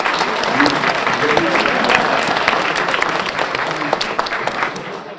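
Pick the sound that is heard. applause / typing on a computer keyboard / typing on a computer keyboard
applause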